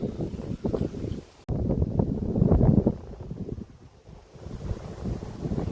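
Strong gusty wind blows across open farmland during paddy sowing season, roaring and buffeting the microphone in loud, uneven surges with brief lulls and no voices.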